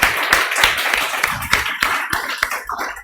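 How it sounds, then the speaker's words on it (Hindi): Students in a class clap their hands in a quick, steady series of sharp claps, with several close together and a busy room murmur underneath. "जो जितने धीरे धीरे ऐसे ताली बजाते हैं ना"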